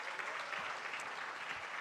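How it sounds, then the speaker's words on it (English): An audience at a memorial lecture claps for visiting guests, a continuous close wash of applause lasting under two seconds. "Let's give them a round of applause"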